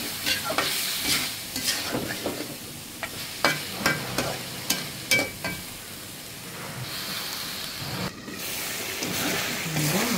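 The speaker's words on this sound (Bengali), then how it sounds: "মাছটা আগে কষাই নিই মশলার সাথে।" Shol fish fried and stirred with spices in a pan, loud sizzling broken by repeated scraping and clattering strokes of the spatula against the metal.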